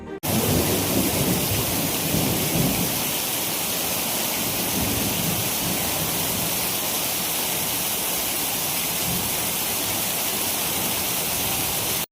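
Heavy monsoon rain pours down in Malpur, Aravalli, Gujarat, during a flooding thunderstorm, making a dense, steady roar that fills the whole stretch with no distinct thunderclaps standing out.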